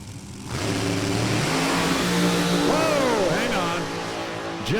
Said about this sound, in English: But Jim Dunn, when he hit the gas, that thing stood up, slammed down.